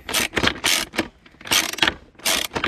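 Ratchet wrench with a U-joint working a lower cowling bolt on a Mercury ProXS 115 outboard: close, loud bursts of rapid clicking and grinding in several separate strokes with brief pauses between.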